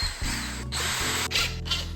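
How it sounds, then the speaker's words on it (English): A cordless power drill runs in bursts, whirring up and stopping, as it bores pilot holes into a wooden entryway cabinet. It is loud and close, with a few short pauses between holes. "What I'm gonna do is just go ahead, drill this in to hold it in place."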